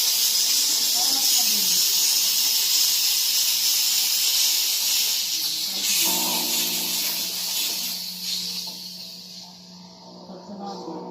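A steam cleaner hisses loudly and continuously while steaming tile grout, then the hiss fades toward the end as a voice talks under it.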